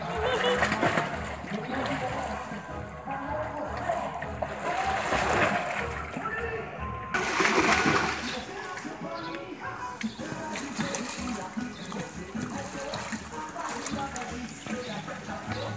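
Water splashing and sloshing in repeated bursts, with surges around the start and midway, close and fairly loud, while people talk over it throughout.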